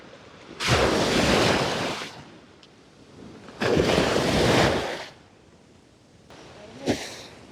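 Rough surf at Tayrona beach in Colombia, with two long crashing waves rolling in and washing out, then a smaller break, heard from the shore with breezy noise between.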